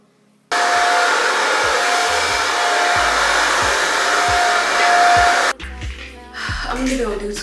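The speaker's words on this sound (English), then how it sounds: "hit it with the blow dryer, maybe on low" A hair dryer on low drying hair, switching on abruptly and roaring steadily and close for about five seconds before cutting off, followed by brief handling and someone speaking.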